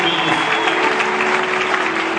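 Cheering crowd applause at a prophets' garrison church gathering, a dense steady roar of clapping with a faint held tone underneath, loud and continuous throughout.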